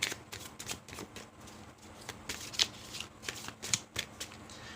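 Oracle cards being shuffled for a card reading, a steady run of soft riffling and flicking taps with a few sharper snaps, close and fairly quiet, with no talking.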